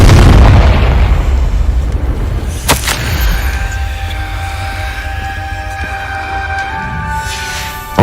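A Confringo spell detonates in the Hogwarts Legacy video game with a loud, deep booming blast, then a sharp crack and a long ringing, shimmering decay.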